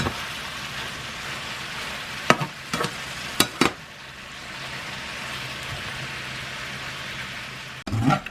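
Pork belly and bean sprouts are stir-fried in a pan, giving a steady soft sizzle broken by a few sharp scrapes and clacks of a utensil against the pan.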